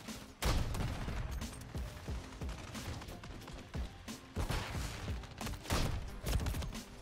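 Dense, chaotic combat in Call of Duty MW3, a rocket launcher firing and exploding amid heavy rattling gunfire, with repeated loud booming impacts and crashes layered over constant shooting.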